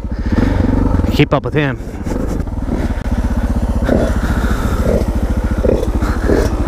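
Suzuki DR650 dual-sport motorcycle on a muddy trail: its single-cylinder engine thumps steadily close by and revs up and down, while a rider speaks loudly over it.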